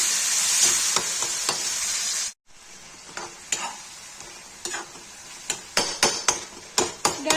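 Tomatoes and red chili frying in a pan for Kashmiri eggplant and tomato curry: a bright continuous sizzle that suddenly cuts off, followed by quieter frying punctuated by sharp clinks and scrapes of a spoon stirring against the pan.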